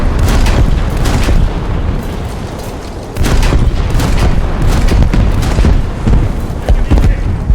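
Bomb explosions in the War Thunder combat game roll out as loud, heavy booms, one after another, in a dense, continuous rumble that barely lets up.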